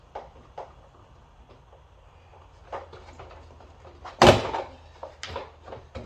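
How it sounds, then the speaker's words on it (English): Door trim panel on a 2011 GMC Terrain passenger-side door being pried off: a single sharp, loud snap near the end, set among faint scattered clicks and handling taps close to the mic, with no talking. "Now we have to pop off the door cover."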